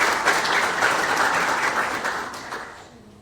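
An audience at a hotel chain signing ceremony applauds to welcome a company board chairman to the podium, a steady dense clapping that fades out over the last second.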